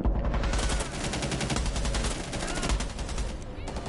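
Rapid automatic gunfire from a weapon in a tactical shooter video game, dense and continuous bursts for several seconds at steady loud level with no talk over it.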